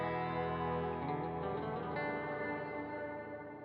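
An electric guitar runs through an echo effect pedal set to a vast, cavernous space, its sustained chords washing into a long reverberant tail that decays slowly.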